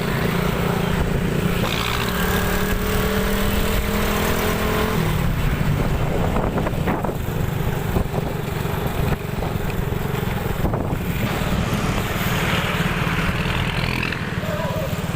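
Motorcycle riding through busy traffic in the Philippines on the way to an Alfamart store, with steady engine drone, road rumble and wind buffeting throughout, while people talk over it.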